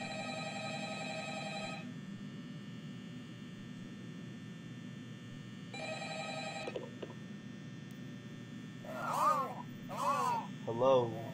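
A telephone rings repeatedly in the horror video game Five Nights at Freddy's 2, with steady bursts of ringing set against a constant electrical hum and a voice speaking near the end.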